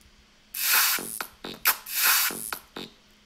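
Reversed clap samples in Ableton, each swelling up from silence and cutting off sharply, several bursts in a row with short gaps and small crackly hits between them, loud and alone with no talking.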